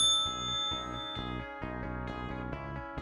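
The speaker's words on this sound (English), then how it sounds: "Ring the bell if no one is there." A bell rung at an unattended visitor counter gives a series of bright metallic dings, one after another with lingering ring between strikes, fairly close and with no talk.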